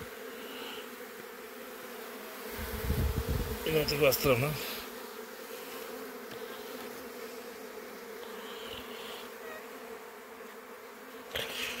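A honey bee swarm issuing from a hive in the evening, a steady dense buzzing drone of many bees throughout, swelling louder for a few seconds midway, with brief quiet voices.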